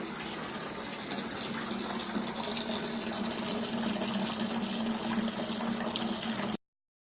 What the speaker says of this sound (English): This is how I oxygenate the wort.